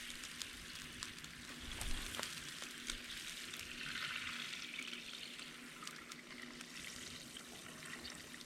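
Water heating to a boil in a camping pan on a backpacking stove, a steady close hiss and bubbling sizzle running continuously without pause.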